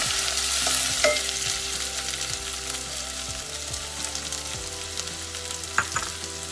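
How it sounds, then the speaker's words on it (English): Onions frying with green chilies in a pan for ghee pav bhaji make a steady, close sizzle, with regular scraping stirs and a few sharper clicks throughout. No one speaks. "green chilies are in. Let's give a minute for the green chilies. This recipe takes very less time. And now I'm going to add our onion."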